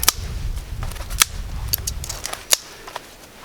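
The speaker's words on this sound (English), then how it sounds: "You can hear that pop, that crack. That's a good indicator that it's dry." Dry wood fuel in a small winter survival campfire, giving sharp, scattered cracks and pops over a low, soft crackle. The sound is close, with a few louder snaps standing out.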